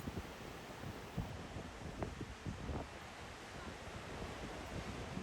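Steady wind buffets and roars across an open stretch of sea on a windy day, with gusty low rumbles and broadband hiss that may include surf, continuous and fairly loud throughout.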